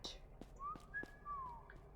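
Quiet, short cat-whistle notes from the video game Sparky Marky slide up and down, interrupted by soft clicks, in an otherwise hushed room.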